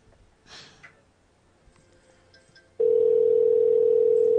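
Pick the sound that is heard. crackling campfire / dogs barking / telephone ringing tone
telephone ringing tone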